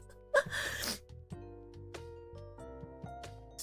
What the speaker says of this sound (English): Sneeze like a chipmunk? Yeah, it's kind of like a chipmunk.